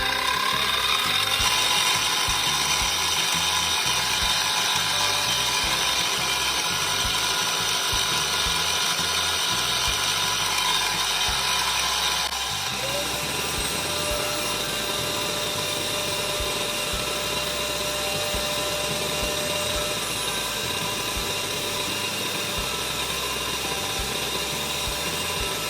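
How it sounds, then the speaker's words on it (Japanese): A power drill bores holes into black resin in a workshop, its steady high-pitched whine running loud and continuous throughout, shifting tone partway through as the bit cuts deeper, with no talking. "黒い樹脂に穴を開けます。"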